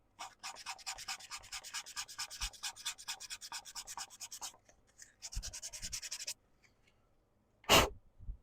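Abrasive paper rubs against a spinning wood turning on a lathe in rapid, steady rasping strokes, pausing briefly before a second shorter burst, then a single sharp knock near the end; no one speaks.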